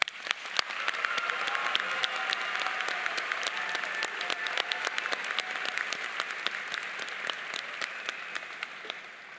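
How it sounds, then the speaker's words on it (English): Graduation audience at a college business ceremony applauding a graduating student, a steady wash of many hands clapping heard from some distance with sharper individual claps standing out throughout. "let's give her a round of applause"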